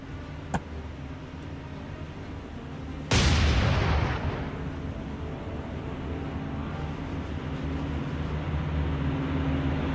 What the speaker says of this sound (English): we are shooting, but we are shooting star shells